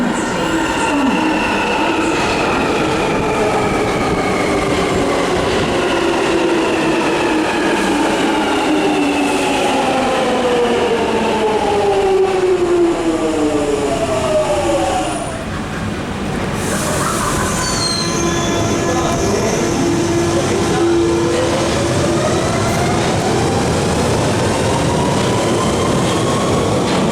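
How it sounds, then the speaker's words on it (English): A train rolls into a London station with long, high-pitched wheel squeals and a steady rumble of rail cars, loud and continuous, with no talking. "The train now approaching the station."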